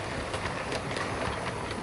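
Steady rolling clatter of a heavy Bachmann Southern Class E4 model locomotive hauling four coaches along model track, with light rhythmic wheel clicks over a constant close hum.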